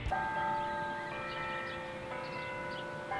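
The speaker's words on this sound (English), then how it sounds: "You'll always know what time it is by the hourly chimes" Clock tower bell chimes on a university campus ring out in sustained, overlapping tones that hang and decay together, with a fresh strike near the end, moderately distant and alone without talk.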